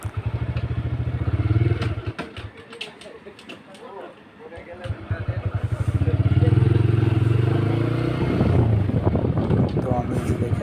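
A motorcycle ridden by a woman biker past Shikder University in Naria, its engine a steady loud drone with wind buffeting and a brief dip midway; a voice talks over it throughout.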